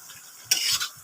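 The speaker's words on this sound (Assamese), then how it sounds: "এতিয়া আকৌ এনেদৰে লৰাই লৰাই ঢাকন দি ভাজি থাকিম" Taro pieces stirred in a hot pan, a brief scraping stir with sizzling frying that swells for a moment and fades, no talk.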